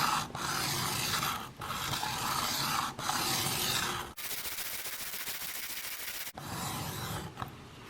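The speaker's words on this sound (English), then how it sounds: "We'll get 2 burrs, then we'll do some alternating burr removal strokes" Alternating burr-removal strokes on a sharpening stone as a knife is sharpened: a series of close, raspy scraping strokes with brief pauses between them, plus a longer finer stroke midway, with no voices.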